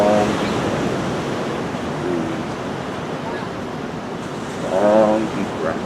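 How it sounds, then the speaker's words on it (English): Ocean waves wash steadily and loudly on a shore during a calm outdoor yoga session, a continuous broadband roar that swells slightly near the end, with no speech over it. "Take a moment and listen to the ocean and find our breath."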